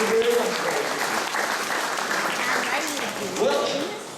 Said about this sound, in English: give my friend Spotted Knapweed a very large round of applause